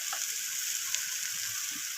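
Garlic and ginger paste sizzles steadily in hot oil while sautéing, a continuous fine hiss with faint stirring, close and moderately loud, no voices.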